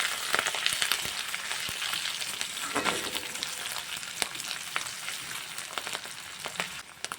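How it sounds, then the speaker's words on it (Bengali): Spice tempering of chopped ginger, a pinch of asafoetida and slit green chillies sizzles steadily in hot mustard oil in a wok, with scattered scrapes and clicks of stirring running through the continuous frying hiss; no voices. "এবার একটু নাড়াচাড়া করে ভাজা ভাজা করে নেব ফোড়নটাকে"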